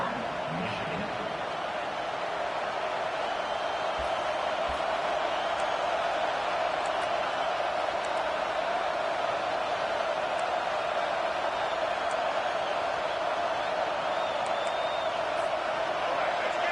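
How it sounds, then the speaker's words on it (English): Steady roar of a college football stadium crowd at a Michigan Wolverines game, a dense continuous wash of noise lasting throughout, with a commentator talking over it. "This crowd going to try to make life miserable for these guys."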